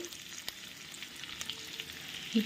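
Chopped ginger frying in oil in a pan, a steady, fairly faint sizzle with a couple of small clicks and a brief bump near the end, close by and without voices.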